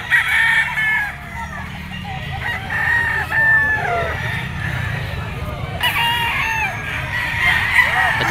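Gamefowl roosters crow repeatedly at a poultry sale, including a yellow-legged Talisay henny and a Boston Sweater stag, with overlapping calls near and far over a busy background of voices and clucking.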